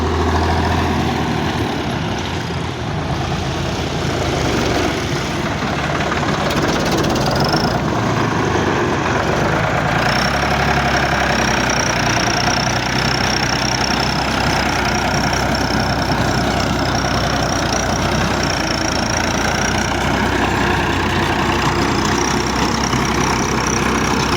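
A 1971 Ford 4000 tractor drives a 48-blade rotavator, its heavy diesel engine running loud and close in a constant rumbling drone, with a faint whine on top that steadies partway through.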